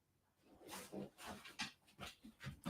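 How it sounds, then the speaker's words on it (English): Dogs whimper and pant in quick, uneven bursts, fairly close and moderately loud, with short yelps and breathy noises repeating over a few seconds and no talking. "There's the dogs."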